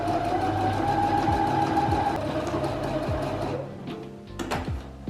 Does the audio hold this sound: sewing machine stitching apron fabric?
yes